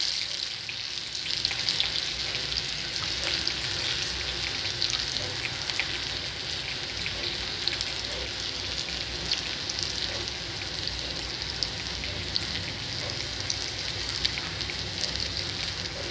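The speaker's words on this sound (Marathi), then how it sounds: "हे बघा असा लालसर होईपर्यंत तळायचा कांदा." Onion frying in a pan for a quick rasa bhaji curry, with curry leaves added, a steady bright sizzle running continuously without pause, fairly close and even in loudness.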